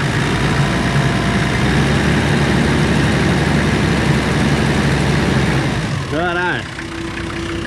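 An Old 80 engine idles steadily after an oil change, a loud, even, continuous rumble close by that drops off near the end as someone speaks briefly.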